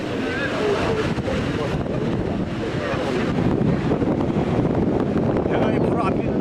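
High, rough North Atlantic surf batters a boat off Nouakchott, where the seabed suddenly shallows. Dense, steady roar of wind buffeting the microphone and crashing water runs unbroken throughout, loud and close.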